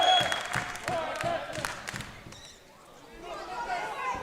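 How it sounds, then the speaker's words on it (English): Crowd noise from spectators at a women's football match between Ireland and Northern Ireland, a steady roar with rhythmic thuds and claps, fading midway and swelling again. "The roar from the crowd behind us as Matthew Crowley comes over for this free kick."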